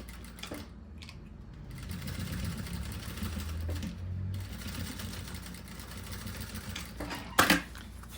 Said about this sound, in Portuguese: E faz a costura.